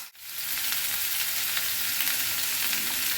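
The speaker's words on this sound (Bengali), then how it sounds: "এখন আমি কুমড়ো আর ডাঁটাটা দিয়ে দেবো" Pumpkin and vegetable stalks hitting a pan of frying potatoes, a sharp onset followed by a continuous, even sizzle with faint stirring ticks throughout.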